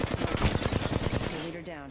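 Rapid automatic gunfire in the video game Apex Legends, a dense burst of loud shots for over a second that then trails off into ringing echoes.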